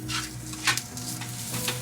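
Sauce tossed in a pan in a Hong Kong restaurant kitchen so it emulsifies, heard as a soft sizzle with a few quick clattering sloshes of the pan and no talking.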